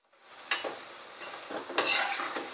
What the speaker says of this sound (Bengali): তারপর আমি আবার এগুলোকে ভাজতে দিয়ে দেব